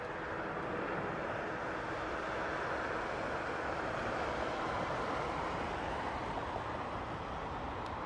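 Steady, loud broadband roar of an old ATR turboprop airliner's engines at Heathrow, a dense continuous rumble holding level for the whole stretch with no voices over it.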